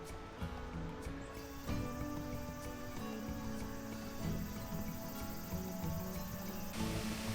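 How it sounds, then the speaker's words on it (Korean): Cicadas call steadily from the trees along a summer valley trail, a continuous, fairly loud buzzing drone that fills the whole stretch with no voices. "나무에서는 제철을 만난 매미들이 우렁차게 짝을 부르고 있네요"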